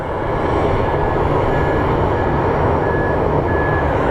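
An American Airlines airliner at Phoenix Sky Harbor airport roars loud and steady throughout, a continuous broadband engine rumble with faint tonal whines running under it and no talk.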